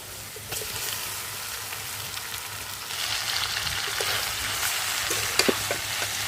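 Boiled noodles stir-fry in a pan with fried potato, carrot and onion. A steady sizzle swells louder midway, with scraping stirs and a few light clinks up close and no voices.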